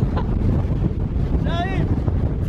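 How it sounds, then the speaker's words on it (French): Strong sea wind buffets the microphone on a Japanese coast near rocks, a loud continuous roaring rumble with a brief whistling gust partway through. "le vent c'est vraiment juste ouf en fait"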